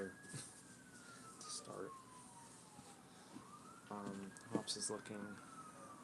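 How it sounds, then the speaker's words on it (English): A police siren wails outside a home, its tone rising and falling in a slow sweep, moderately loud but distant, with a person talking nearby over it. "I can hear police sirens outside."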